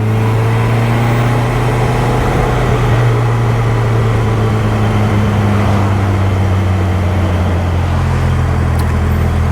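Supercharged 1275 Super Bugeye sports car accelerating hard in third gear, a steady, loud, close engine drone with rising pitch running throughout, no talking.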